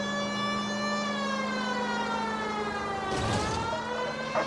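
A police car siren wails steadily and loudly throughout in L.A. Noire, its tones sliding slowly downward, with a brief burst of engine or crash noise near the end.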